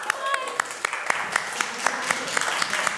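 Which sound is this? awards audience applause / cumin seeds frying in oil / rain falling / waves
awards audience applause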